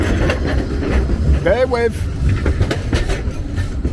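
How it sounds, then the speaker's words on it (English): Tram passing through central Blackpool, a steady rumble of rail wheels with a brief rising screech, heard under street chatter and a voice. "it's a tram"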